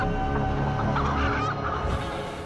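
Fighting cocks in Bali give loud, harmonic crowing calls close by, with several overlapping cries and no voices.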